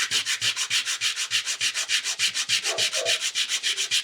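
Rapid back-and-forth sanding strokes rub plastic off a Mec-Gar pistol magazine being fitted to a Baby Eagle, a steady, close, loud rasping rhythm of about seven strokes per second with no talk.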